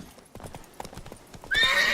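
Horse in The Witcher 3 game, hooves clip-clopping in an uneven gallop at moderate level, then a loud neigh near the end.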